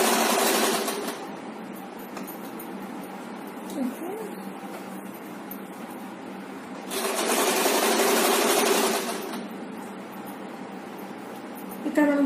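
A sewing machine stitching a chudidar gathering pant, its motor whirring in two louder bursts with quieter running between, while someone talks over it.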